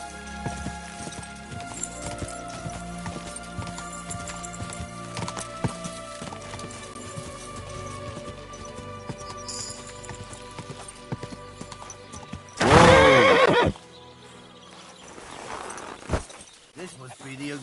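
Horse in the video game Kingdom Come, with rhythmic hoof clip-clops over game ambience, then a loud, brief neigh partway through, followed by quieter movement.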